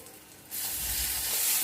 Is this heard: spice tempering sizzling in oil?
yes